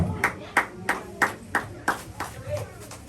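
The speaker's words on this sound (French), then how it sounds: "Applaudissez, applaudissez, applaudissez." Rhythmic, unison hand claps from a church congregation, about nine strong beats spaced evenly over a few seconds, with voices singing or talking underneath.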